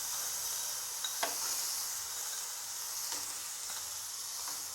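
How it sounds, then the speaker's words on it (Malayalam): Carrot halwa cooking in ghee in a pan, stirred with a few soft spoon scrapes over a faint, steady sizzle, quiet and close with no voices. "അല്പം നേരം കൂടെ നമുക്കൊന്ന് ഇളക്കി കൊടുക്കാം."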